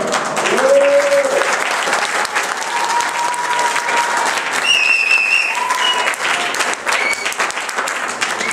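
Loud, dense applause from a dance gala audience in Villemomble, continuous throughout, with a few whistles or cheers rising above the clapping.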